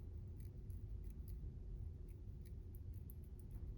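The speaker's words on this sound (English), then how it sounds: "extremely sharp scissors, this is just really easy to do" Very sharp scissors snip along the back of a fly-tying hook, trimming material in small close cuts that sit over a low steady background hum.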